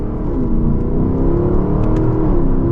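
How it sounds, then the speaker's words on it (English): A Lexus LC500's naturally aspirated V8 revs loudly and close by, its engine note climbing steadily for a few seconds with no voices over it. "so far they have kept the LC500 with that NA V8"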